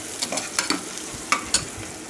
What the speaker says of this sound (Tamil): இப்போ அதை மெதுவாக வதக்க தொடங்கிடலாம்.